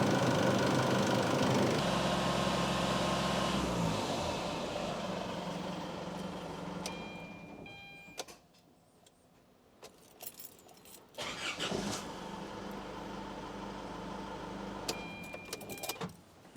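An Isuzu MU-X engine idles loudly and steadily after a fuel filter replacement, then cuts off briefly before cranking and restarting, settling back into a running idle.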